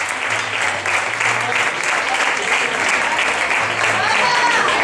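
Steady, full applause from a live audience greeting a singer as she takes the stage, dense clapping holding at an even level for about five seconds with no talking.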